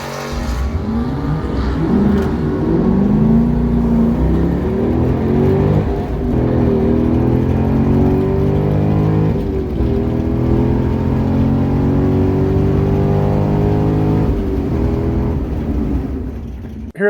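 A street-driven manual-transmission C6 Corvette V8 launches hard at a drag strip, the loud engine revving and pulling through rising gears for the whole run with steady, close, throaty roar.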